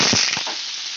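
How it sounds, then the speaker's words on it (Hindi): Okra shallow frying in mustard oil in a kadai gives a steady, bright sizzle with a few sharp pops near the start, heard close up with no voices. "जो भिंडियाँ हैं उसे फ्राई करेंगे।"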